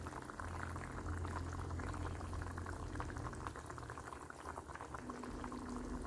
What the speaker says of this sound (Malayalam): അപ്പോൾ ഇതേ നല്ല തിളയൊക്കെ വന്നിട്ടുണ്ട്.